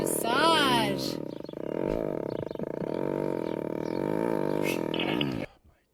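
A big cat gives a loud, deep, rumbling purr that vibrates steadily for several seconds, swelling and dipping slightly before cutting off abruptly.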